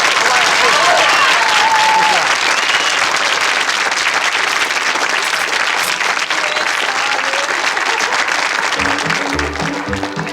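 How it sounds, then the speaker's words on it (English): Loud, dense audience applause at a comedy show, sustained across the whole stretch and thinning slightly near the end as music and speech start underneath. "Let's have a big round of applause."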